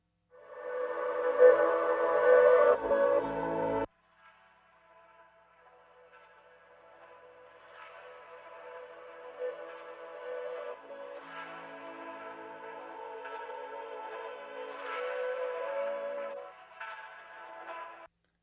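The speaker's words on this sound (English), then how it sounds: "So we have these vocal samples that lead you right up to where the beginning starts" Processed vocal samples open a song intro, starting with a louder echoing burst that cuts off abruptly, then giving way to quieter, airy sustained vocal textures that swell gently, with no speech over them.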